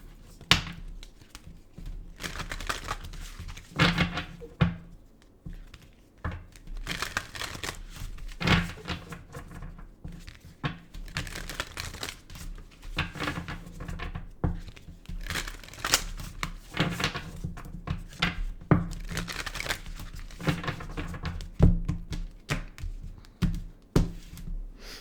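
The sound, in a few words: shuffling tarot cards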